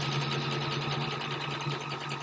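A sewing machine runs steadily, stitching fabric for a quilt square with fast even mechanical chatter that stays close and continuous throughout, with no talking.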